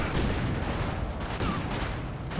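Dense, continuous machine gun fire mixed with explosions in a Company of Heroes 2 2v2 battle, a loud, unbroken wall of battle noise with no clear gaps.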